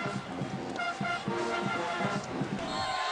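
A basketball arena crowd cheers and roars in a sustained, loud wash of voices, with a public-address or commentary voice faintly underneath.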